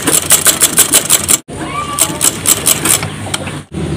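A sewing machine stitches a skirt's waistband in rapid, steady bursts of mechanical clatter, close and loud, with two brief stops in between.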